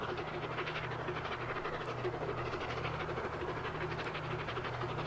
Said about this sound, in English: It is a beautiful train though.